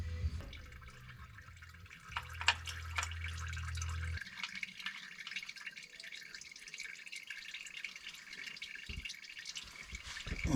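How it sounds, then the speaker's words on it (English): Used fluid drains from a 7.3 Powerstroke truck, dripping and trickling softly into a pan, faint and close, with a low hum fading out early and occasional light clinks. "we'll let that drain for a little bit"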